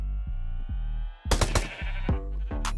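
A Minecraft goat bleats repeatedly in wavering, nasal cries, loud and close, with a few sharp impact pops in between.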